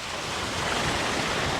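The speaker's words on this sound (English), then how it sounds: "Another little waterfall and a little bridge." A small waterfall beside a bridge at Lake Las Vegas in Henderson, Nevada, producing a steady, loud, broadband rush of falling water with no pauses and no talking.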